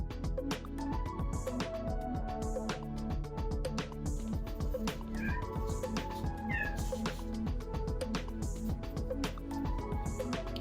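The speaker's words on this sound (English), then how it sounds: "Oh, my kitty cat wants in the door." A cat meows repeatedly at a door, its clear, insistent, close cries rising and falling in several drawn-out calls over a quiet background.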